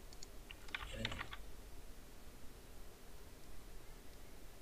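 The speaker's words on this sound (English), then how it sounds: "this is now you can type your data" Typing on a Mac computer keyboard while entering spreadsheet data, a short burst of close, light key clicks in the first second and a half, then only faint room hiss.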